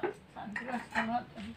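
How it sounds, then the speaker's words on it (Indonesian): Plates and cutlery clink as dishes are washed, giving several scattered light clatters. A voice talks over them, and near the end one sharper clink stands out. "Itu ibu lagi bersih-bersih piring, soalnya lama nggak kepake kan kotor juga."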